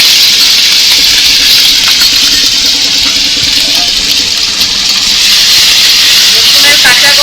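Black cumin seeds and a half-ground paste of garlic and green chili sizzle in hot oil for a Bengali fish curry, a loud, continuous, close hiss with crackling spits throughout.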